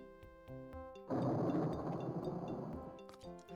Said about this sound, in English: Thunderstorms happening here.